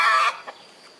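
A hen gives a single short, loud cluck up close, followed by a faint softer call and then quiet.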